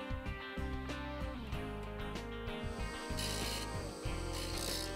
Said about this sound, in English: Keep the scraper flat on the grinder's tool rest and stroke the edge in a sweeping arc.